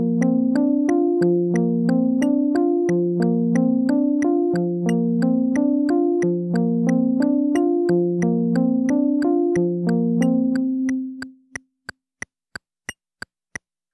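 Pitched notes repeat in steady groups of five eighth notes, then stop, leaving a few sharp metronome clicks ticking alone.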